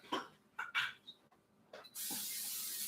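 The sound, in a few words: cooking spray on skillet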